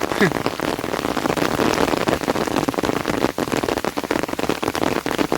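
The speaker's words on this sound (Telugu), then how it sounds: "ఆవుల కాపుకి వచ్చినప్పుడు అయితే వర్షం పడితే ఇట్లా ఉంటుంది." Steady rain pours down on a rural cattle-grazing spot, a dense, even hiss of drops hitting surfaces up close, continuous throughout with no talking.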